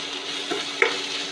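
Onions sautéing lightly in a pan for aloo bonda filling, a short steady sizzle with one quick stir or tap, close and alone.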